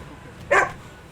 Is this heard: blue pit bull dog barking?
yes